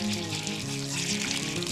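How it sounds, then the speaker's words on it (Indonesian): Water running steadily from a tap at a spring beside a mountain hiking trail, a continuous close splashing flow with no pauses. "Sudah ada keran air."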